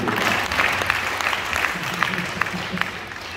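Audience applause for God at a church sermon, a dense wash of many hands clapping with a few sharper claps standing out, moderately loud, with faint voices in the crowd.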